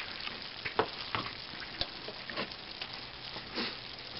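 Biscuit gravy browning in a pan gives off a steady, soft sizzle, with scattered scraping taps of a utensil stirring through it. No one speaks.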